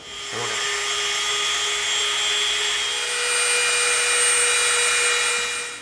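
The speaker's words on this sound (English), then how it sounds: "now what we're going to do is we're going to come in with our Dremel" Dremel rotary tool sanding the edges of EVA foam pieces for a Star Trek phaser rifle prop, a continuous high-pitched whirring buzz that holds steady and loud for several seconds with slight swells as it presses into the foam.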